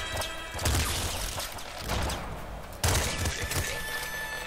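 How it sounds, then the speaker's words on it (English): Double shotgun blasts in a video game, heavy booming reports at about 0.6 s and 2.8 s, each followed by a ringing tail, over a steady background hum of game noise. "Double shotgun"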